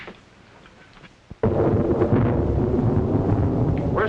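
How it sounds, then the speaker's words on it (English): A sudden loud surge of roaring storm wind with rumbling thunder bursts in after a quiet stretch and then rages on steadily, close and dense, with no voices. "Worst storm I ever saw in Jerusalem."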